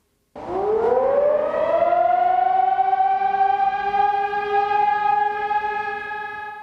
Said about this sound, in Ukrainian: жителі області чутимуть звичайний сигнал про повітряну тривогу